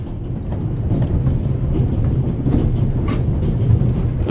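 Steady rumble of a train travelling in the video game The Raven Remastered, a continuous low rolling drone with faint rhythmic clicks, fairly loud and without any voices.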